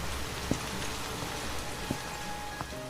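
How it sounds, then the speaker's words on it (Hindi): Steady rain falls on a stormy night, a soft, even hiss with a few faint drips and knocks scattered through it and no voices. "रास्ते में जोरों की बारिश शुरू हो जाती है।"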